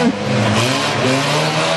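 Race cars lapping a rodeo-style circuit roar steadily past, a continuous loud engine drone with faint tire noise and no talk.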